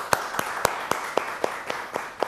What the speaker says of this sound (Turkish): Ritim'de Fahri Yakışıklı, kocaman alkışlarla